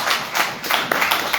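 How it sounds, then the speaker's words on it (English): A crowd claps together in a brief burst of applause, dense and steady at close range. "Everybody clap it up for Schedule 3."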